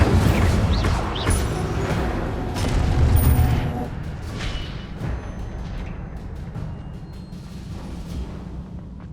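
Incendio fire spell cast in the video game Hogwarts Legacy: loud, dense fiery blasts and booming bursts for the first few seconds, fading into a steadier crackling rumble.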